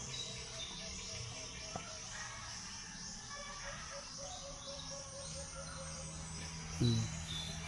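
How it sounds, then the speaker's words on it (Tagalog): A punay bird calls faintly in short, low hooting notes amid insect chirps and rural outdoor background noise, with a louder cooing call near the end. "Ang tawag sa amin dyan ng ibon na yan ay punay."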